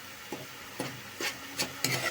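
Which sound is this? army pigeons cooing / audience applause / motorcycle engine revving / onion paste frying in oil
onion paste frying in oil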